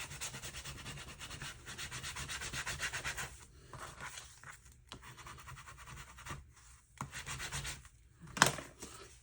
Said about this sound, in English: Get the bone folder, mash it out.